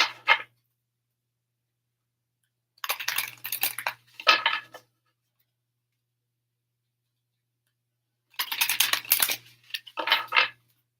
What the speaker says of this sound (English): let me shuffle them real quick